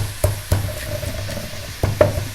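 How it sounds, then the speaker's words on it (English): Whole spices pounded in a pestle and mortar for garam masala, a series of sharp, close thumps at an uneven rhythm with a faint ringing tone between strikes. "I'm just going to go and give them a good pounding and create the most amazing masala"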